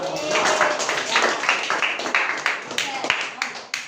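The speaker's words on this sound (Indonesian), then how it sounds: "Tepuk tangan dulu dong." Audience at a community outreach session on religious learning claps hands, a short burst of moderately loud claps mixed with voices and talk.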